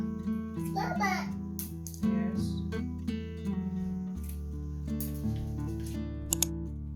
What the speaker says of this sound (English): I'm just cutting my hair